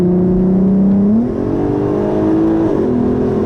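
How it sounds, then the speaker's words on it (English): A 2008 Volkswagen R32 engine revs hard through its exhaust, the pitch climbing in steps as it accelerates. The sound is loud, close and continuous. "we're gonna unleash the Wookiee"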